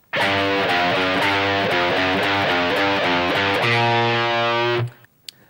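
Heavily distorted electric guitar plays a riff: a close, loud, steady line of repeated picked notes that ends on a long sustained chord and then cuts off abruptly.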